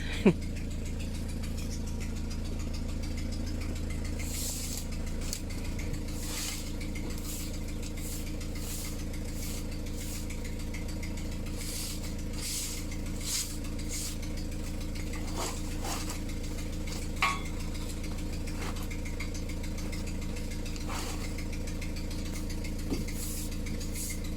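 A car engine, kept idling after a jump start because of a flat battery, hums as a steady low drone throughout, with occasional faint ticks and clicks nearby.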